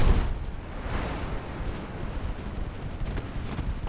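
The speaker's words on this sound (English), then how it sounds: "He took 2 torpedo hits." Torpedo hits striking a warship in a naval combat game, heard as a continuous low rumbling roar of explosions with a sharp burst at the start, moderately loud and steady throughout.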